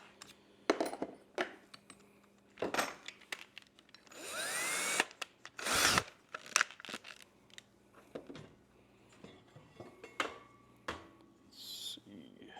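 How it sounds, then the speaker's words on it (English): A power drill with a bigger bit bores through extruded aluminum for a wood-and-aluminum camp kitchen chuck box, giving a few seconds of grinding whine amid scattered clicks, clatter and handling knocks. "It's just a bigger drill bit."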